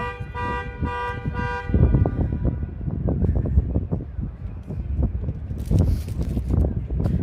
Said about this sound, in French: le prochain salon de l'auto, ils vont débrancher tous les klaxons